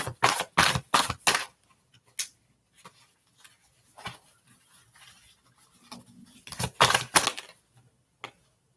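Quick bursts of tarot cards riffling and snapping together during shuffling come in clusters, separated by quieter stretches of soft handling, with no voices.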